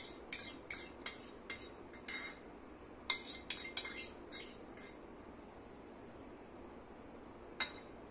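A metal spoon scraping and clinking against a bowl while ghee is scooped out for ragi cookies, a series of sharp, close taps and clinks clustered in bursts, then a quieter gap and one last clink.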